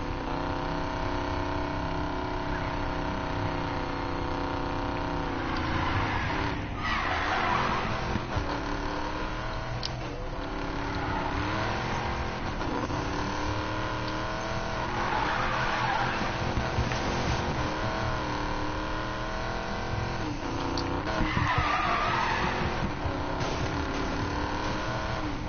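A car engine roars steadily in the video game Need for Speed Payback, rising and falling with acceleration while tires repeatedly squeal and skid through turns, one continuous stretch of driving.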